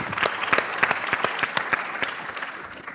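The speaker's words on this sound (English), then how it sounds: "give her applause." An audience at a political talk in Berlin claps, a dense burst of hand claps close by that gradually thins and fades over three seconds.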